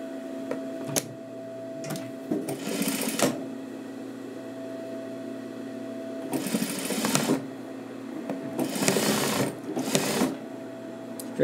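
A sewing machine stitches a straight seam through fur for a coat in several short, rapid bursts of mechanical clatter, separated by pauses with a faint motor hum, the bursts growing quicker later on.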